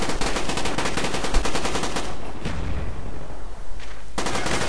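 Automatic gunfire rattles in a first-person shooter game, a loud, close burst of rapid shots, then a brief lull with a couple of isolated shots before dense firing resumes.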